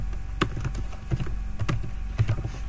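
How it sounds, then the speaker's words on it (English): Someone types a name on a computer keyboard, producing close, quiet, irregular key clicks in quick bursts over a soft background hum. "I'm going to type in my name"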